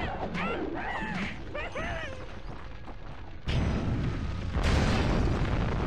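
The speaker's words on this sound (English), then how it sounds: "All I did was press fireball once and there's like big explosions." Fireball explosions in The Legend of Spyro: A New Beginning, heavy booming blasts rolling in back to back in the second half, after a stretch of game voices and chirpy effects, with a person talking.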